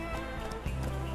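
Horse hooves from an anime fan dub of Steel Ball Run, Cannon City stage, a loud, dense run of clip-clop beats over a continuous music and effects bed, with a heavier thud just past the midpoint.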